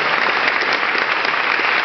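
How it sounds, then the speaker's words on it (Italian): Audience bursts into dense, loud applause, a continuous wall of clapping from a crowd with no voices on top. "qui voglio l'applauso"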